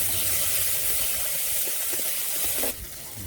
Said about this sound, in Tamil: உப்பு போட்டு வதக்கினா வெங்காயம் சீக்கிரம் வதங்கிடும்.